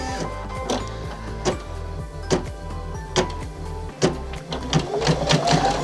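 A Baby Lock embroidery machine stitches out a design, its needle hammering in a fast, even mechanical rhythm punctuated by periodic louder clacks, close and prominent with no talking.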